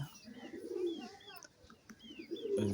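Local pigeons in a home coop give soft, intermittent coos close by, with a few faint higher chirps from other birds in between.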